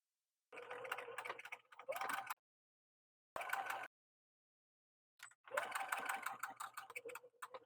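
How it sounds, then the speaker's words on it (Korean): A sewing machine stitches the bottom seam joining the lining and outer fabric of a shoulder/crossbody bag, running in three separate bursts with short pauses between them. "안감과 겉감 바닥 부분을 박음질 해주겠습니다."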